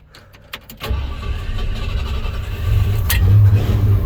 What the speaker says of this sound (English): hey, it started. It's running.